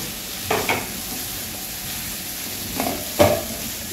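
Ridge gourd pieces with mustard being stirred and sautéed in a frying pan, with a soft sizzle underneath and two pairs of short, close scraping stirs, one early and one near the end.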